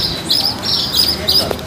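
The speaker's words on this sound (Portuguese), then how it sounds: "Aqui, ó, ficam os passarinhos." Birds chirp in a shade tree at a campsite in Canoa Quebrada, with quick bright tweets repeating over about two seconds against a noisy outdoor background.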